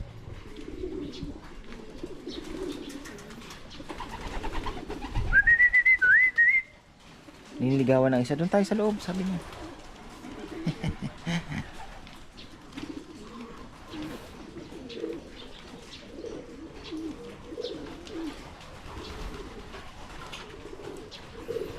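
Pigeons coo in a backyard loft, with soft low calls scattered through the scene, while people talk nearby and a brief whistled call rises above the rest.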